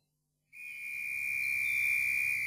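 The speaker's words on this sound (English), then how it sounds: "when I blow the whistle, scamper back to the fairy ring" A single steady whistle is blown close and loud, a shrill sustained tone held for about two seconds after a brief silence, by someone calling a group of children back together.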